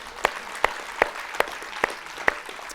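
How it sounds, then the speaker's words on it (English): After a panel discussion on eating invasive species, six sharp single claps ring out at a slow, even pace over a low background hum, sounding more like one pair of hands than a full crowd. "Okay, round of applause for the panel."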